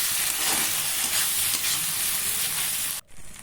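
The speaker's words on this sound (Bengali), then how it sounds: "তেল গরম হয়ে গেলে পেঁয়াজগুলো দিয়ে ভালো করে ভেজে নেব" Onions frying in hot oil for a cauliflower curry give a steady, close, loud sizzle for about three seconds, then cut off abruptly and return softer.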